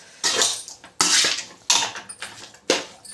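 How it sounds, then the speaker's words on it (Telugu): Chicken egg noodles are tossed and mixed in a pan, giving four or five bursts of rattling, scraping utensil-on-metal noise in quick succession, close and loud, separated by short pauses. "ఇలా బాగా అన్ని దాంట్లకి పట్టేలాగా మనం కలుపుకోవాలి"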